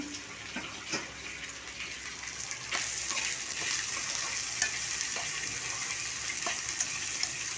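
Okra (bhindi) fries in a pan in a home kitchen, giving a steady, close sizzle that grows fuller partway through, with a few clinks and stirring knocks.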